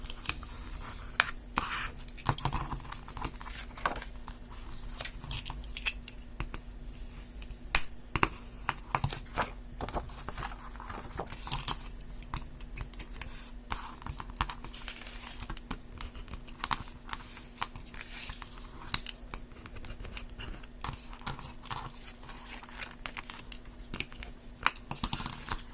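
Paper panels for a travel mini album being folded and creased by hand, producing faint, close crinkling, scraping and soft tapping noises scattered continuously over a quiet room hum.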